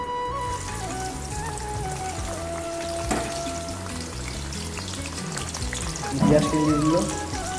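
Onions frying in a very hot wok while cooking a pork curry, a steady close sizzle throughout with a brief sharper crackle and louder burst of spitting near the end as more goes in.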